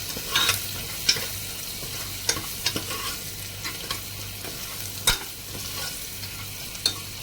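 Chopped onion and turmeric sauté in a pan for a mutton curry, giving a steady soft sizzle with intermittent spatula scrapes and stirring clicks, close and without talk.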